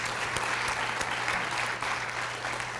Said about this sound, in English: So let's clap and celebrate our employee success.